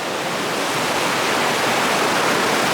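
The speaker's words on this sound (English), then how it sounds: "Now we're at the creek." Steady, loud rushing of a snowy creek flowing, a dense broadband wash of water noise with no pauses, heard close and alone.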